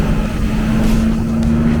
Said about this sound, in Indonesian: jendelanya terbuka, anginnya wus